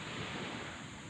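Sea waves washing on an island shore, a steady broadband surf roar with wind noise buffeting the microphone throughout.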